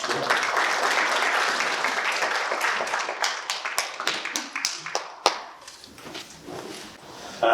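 Applause rises at a commemoration ceremony for the 102nd anniversary of the Battle of Cheongsanri, a broad crowd clapping that thins into scattered individual claps and taps before fading.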